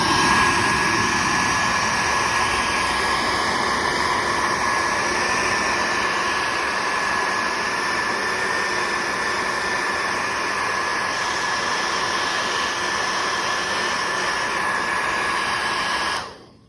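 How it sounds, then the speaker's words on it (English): A handheld blow dryer heats a paper page to erase ink writing, giving a steady, loud, close airy roar with a faint whine that runs unbroken for about sixteen seconds before cutting off. "you can use heat or a blow dryer to erase it"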